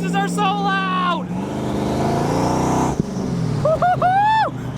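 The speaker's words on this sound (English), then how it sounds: "Turbo noises are so loud." A twin-turbo Mustang accelerates hard, close and loud, with a rising engine roar and a whistling turbo whine that climbs and falls again near the end.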